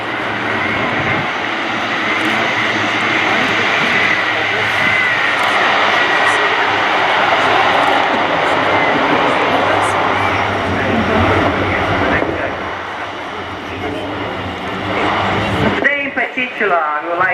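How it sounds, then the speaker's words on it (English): A C-27J Spartan military transport aircraft lands in a very short distance and then taxis in reverse at an air show. Its engine roar is loud and sustained throughout, and a voice talks over the noise. "Here we are, we're landing a C-27J Spartan stopped in less than 300 meters."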